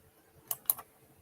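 Two or three quick, quiet clicks on a computer keyboard or mouse in a quiet room, clustered near the middle of a short moment with no voices.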